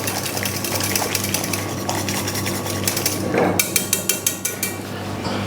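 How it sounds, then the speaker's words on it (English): Someone whisks an apple kuzu mixture in a bowl, with rapid rhythmic metallic clicking that builds into quick regular strokes toward the end, fairly close and clear. "Let's use this to whisk it up."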